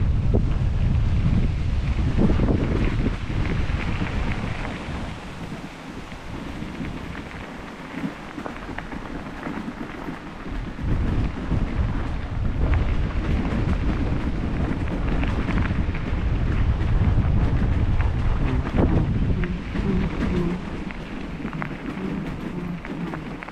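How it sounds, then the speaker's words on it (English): Strong wind buffets the microphone near a railway line by a station, a steady loud roar with gusts that rise and fall throughout, with no voices. "The wind is really picked up."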